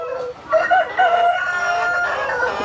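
Tiger breed chickens on a poultry farm crow loudly and repeatedly, drawn-out rooster calls rising over a constant background of clucking flock noise.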